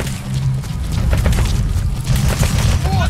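Gunfire in Metal Gear Solid V: The Phantom Pain, rapid overlapping bursts and booming shots crackling densely over a low rumble, loud and continuous, with a voice speaking over it.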